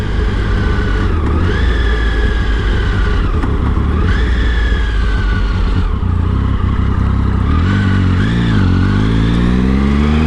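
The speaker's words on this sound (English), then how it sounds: "it's got kind of a nice low grunt to the triple this time" Triumph Speed Triple three-cylinder motorcycle engine under way, loud and close, with repeated throttle rises and falls as the revs climb and drop between gear changes, the exhaust note continuous throughout.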